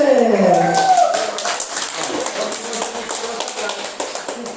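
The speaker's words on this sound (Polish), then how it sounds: "Wielkie brawa dla zwycięzców tej konkurencji para numer 3" Applause at a village dance party for the winning couple of a dance competition, a crowd clapping steadily and fairly close for several seconds after a brief spoken voice at the start.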